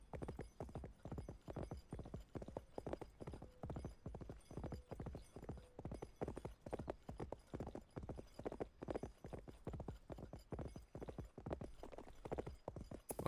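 A horse's hooves clip-clop in a fast, even trot in Cowboy Life Simulator, a quiet, steady stream of clops that runs the whole time with no voices over it.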